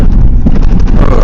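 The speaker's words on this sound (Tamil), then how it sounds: "அது வரைக்கும் ஒரு சில் காற்று வந்துங்க பாருங்க." Chilly wind gusting in through a partly open door during a hill-country vehicle ride near Gangtok and Darjeeling, a steady broad rushing buffet with low rumble and no speech.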